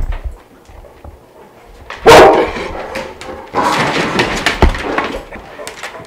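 A Cane Corso barks in two loud bursts, a short one and then a longer, rougher run, close by against a quiet background.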